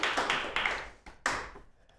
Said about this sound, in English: If you think Wiley won this debate, please give him a round of applause.